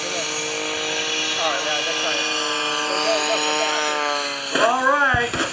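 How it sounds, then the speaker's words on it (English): Aerobatic airshow plane flown by Gary Ward at the 2013 Greenwood Lake Airshow, its engine droning steadily with shifting pitch before a sudden louder afterburner surge near the end, under an announcer's voice. "He nudges the afterburner like that, pops it."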